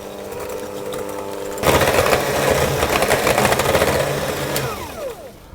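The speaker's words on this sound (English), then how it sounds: "I'm going to use my hand mixer" An electric hand mixer whisks butter and sugar in a bowl, starting with a quieter motor hum and then switching to a loud, steady whir with scraping in the bowl before it winds down.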